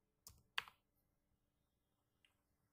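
A few soft, close clicks of keys on a computer keyboard sound in a quiet room: two quick taps, then one fainter tap after a pause.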